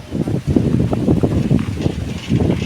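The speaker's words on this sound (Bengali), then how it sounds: "অনেক বাতাস রাস্তায়" Strong wind on an open road buffets the microphone in loud, uneven low rumbling gusts for a few seconds, with no talking.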